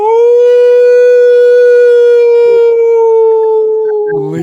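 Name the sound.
person imitating an old-fashioned howl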